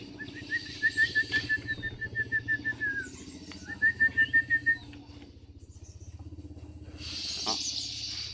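Caged songbirds chirp in fast, rhythmic trilling runs, two clear bursts close by, with a low steady hum and rustling underneath and a soft flutter toward the end.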